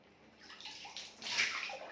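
Water splashing and sloshing in a bathtub during a child's bath, soft uneven splashes rising to a brighter burst midway, close and fairly quiet.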